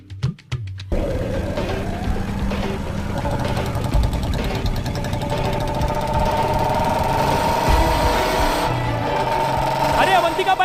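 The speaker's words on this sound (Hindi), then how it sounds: "बाइक थोड़ा धीरे चलाओ" A cartoon motorbike engine runs with a steady buzzing drone throughout, loud and continuous, with people talking over it.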